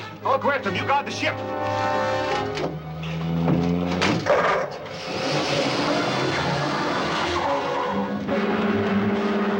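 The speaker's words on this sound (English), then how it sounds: "They're taking off in the car." Car speeding away with skidding tires in a 1952 adventure serial, engine roar and tire squeal sweeping up loudly over several seconds amid background music and voices.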